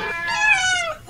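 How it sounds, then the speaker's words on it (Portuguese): A single drawn-out cat meow, close and fairly loud, rising then falling in pitch over about a second with no other sounds. "É o gato."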